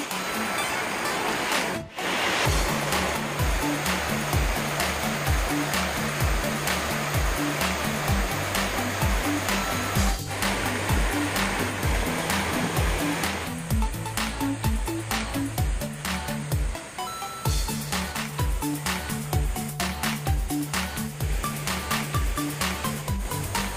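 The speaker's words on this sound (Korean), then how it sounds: "작은 폭포 수소리가 시원함을 더하고" A small waterfall in a shallow mountain valley stream in Sanchung's Seonyudong Valley, shaded by dense old-growth trees, pours in a steady, full rushing roar that stays close and continuous throughout.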